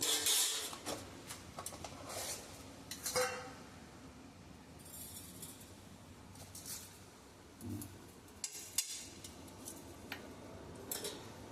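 Green chillies and sugar stirred in a cooking pan for a mustard-flavoured Malabar spinach dish, heard as sparse, faint clinks and light scrapes of a utensil against the pan, with no talking.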